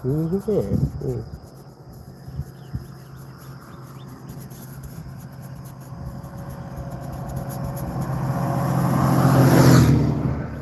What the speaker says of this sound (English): Cars rushing by and birds in the back.